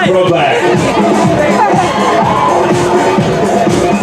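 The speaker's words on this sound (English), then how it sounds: "They're cheering loud and proud for Ryder Soros." A crowd cheers and shouts at the finish line of the Seacoast Cancer 5k and Fun Walk in Portsmouth, NH, a dense, loud wash of voices with a muddled announcer-like voice mixed in.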